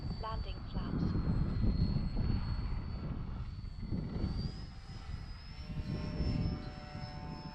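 A Dynam Grand Cruiser V2 radio-controlled propeller airplane flies on its maiden flight, with a steady droning engine hum and a whining pitch that rises slightly. The plane is heard at moderate distance, with some wind noise.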